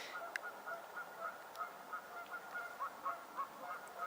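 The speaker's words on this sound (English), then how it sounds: "And the goose is very excited as well." A goose honks repeatedly in short, faint calls at a steady rhythm over a hissy outdoor background, at some distance.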